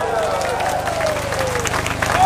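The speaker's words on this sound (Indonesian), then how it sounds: "Tepuk tangan dulu buat kita semua." A crowd at a street rally claps and cheers in a continuous, dense wash of applause, with voices murmuring underneath and an amplified speaker's tone lingering in the background.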